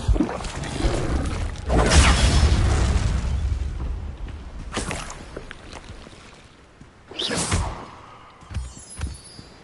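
A Bombarda explosion spell goes off in the video game Hogwarts Legacy: heavy booming blasts with rumbling tails, a big one early and two more bursts later, loud and close.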